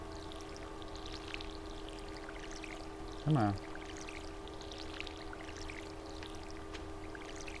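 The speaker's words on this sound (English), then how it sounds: "And I can actually go ahead and water this." Watering crops with a watering can in the Stardew Valley video game gives a single short pouring splash against a faint steady background, with a brief spoken line elsewhere in the clip.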